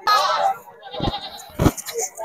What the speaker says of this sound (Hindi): तो आज आपको सिंध की डिफरेंट ब्रीड की बकरियां दिखा रहे हैं।